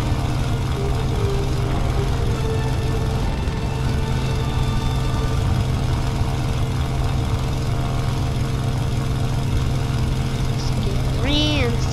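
A bomber aircraft's engine in the War Thunder video game drones steadily and loudly throughout, a constant heavy rumble with a brief rising whine near the end.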